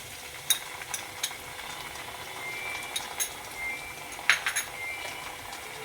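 Ginger-garlic paste frying in a pan for a Bengali-style katla fish kalia, a faint steady sizzle with a few sharp spatula clicks and scrapes scattered through.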